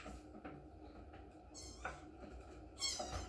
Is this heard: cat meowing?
yes